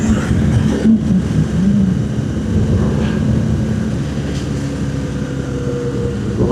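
Motorcycle engine droning steadily while riding down a descent, a loud, continuous low hum with faint wind rush and no pauses.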